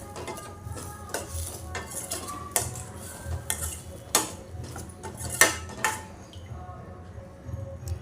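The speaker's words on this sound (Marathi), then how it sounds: "आता ओले काजू आणि बटाटे घालून घेऊया आपण आणि छान मिक्स करून घेऊया" A spoon stirs fresh cashews and potatoes in a metal pan for a festival offering meal, giving close, irregular clinks and scrapes against a faint sizzle.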